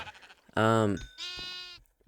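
Sheep bleating on a sheep farm in a video game, two loud, wavering bleats in quick succession, the second higher and thinner, with a little background sound around them.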